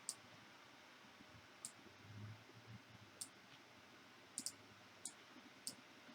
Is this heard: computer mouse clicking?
yes